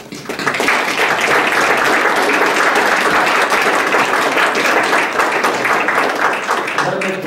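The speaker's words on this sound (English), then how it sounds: "Let's give Professor Mofeti a big round of applause." A lecture audience at a talk on indigenous knowledge systems in Namibia gives Professor Mofeti a big round of applause, sustained loud clapping from many people that carries on for several seconds, alone and unbroken.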